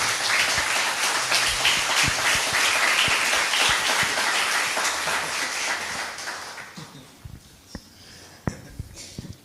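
A large audience applauds in a loud continuous roar of clapping that holds strongly, then thins out and fades to scattered claps near the end.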